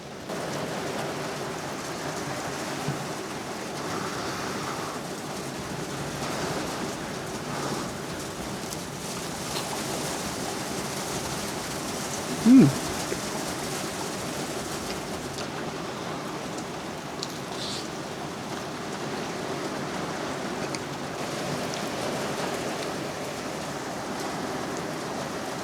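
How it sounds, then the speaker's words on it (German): Steady rain falls outside a mountain shelter after a thunderstorm has passed, a continuous even patter and hiss with one brief louder knock midway, no voices present. "Mittlerweile ist das Gewitter auch weitergezogen, jetzt regnet es nur mehr draußen"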